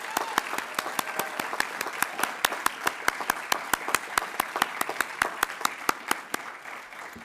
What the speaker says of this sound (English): join me in giving the class of 2026 their first round of applause